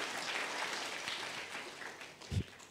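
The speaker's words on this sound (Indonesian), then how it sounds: "Ayo tepuk tangan lagi bagi dia" Applause in a church gathering after a testimony: a continuous wash of crowd clapping at moderate distance, with a single louder thump near the end.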